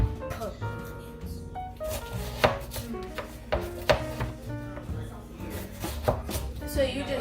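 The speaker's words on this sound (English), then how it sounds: "So just cut it, and this should chop it in pieces" An onion chopped into pieces on a cutting board with a knife, a series of irregular crisp thunks close by, mixed with people talking over the cutting.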